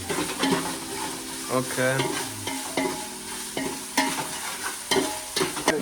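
Fish pieces frying in a pan for a home-style fish curry, a bright crackling sizzle punctuated by several clanks and scrapes of a spatula, close up, with a brief spoken word.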